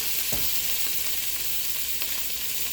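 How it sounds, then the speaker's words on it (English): Wood ear mushrooms frying on high heat in a pan, a steady broadband sizzle that stays loud and close throughout, with a couple of brief sharper pops and no talking. "So we're frying it on high."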